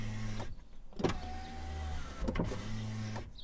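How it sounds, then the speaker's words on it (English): An Infiniti G35's electric window motor raises the window with a steady whirring hum that starts and stops with soft clunks, heard up close inside the car with no talk. "The window motor, it works. It still rolls up."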